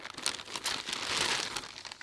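A plastic bag around a newly bought manga volume crinkles up close in a brief, continuous rustle with no talk.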